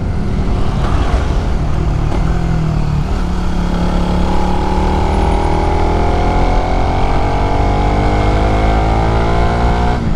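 A motorcycle with a stock muffler climbing uphill, its engine droning loud and close with rising revs as the gear pulls up the slope, heard alone without talk.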